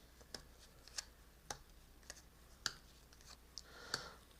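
Cards being shuffled and dealt while setting up the Mysterium board game, heard as a run of soft, sharp clicks and riffles spaced about half a second apart, faint and close, with no talking.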